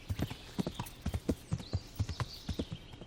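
Quick, rhythmic hoofbeats of a galloping horse in the video game Kingdom Come: Deliverance, a steady clip-clop pattern repeating evenly at moderate volume with no talking.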